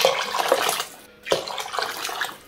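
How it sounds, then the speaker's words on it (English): About three liters of water poured into a pot of bean soup in a home kitchen, a steady splashing pour that breaks briefly midway, then resumes and tapers off. "we'll add about 3 more liters of water to this mix."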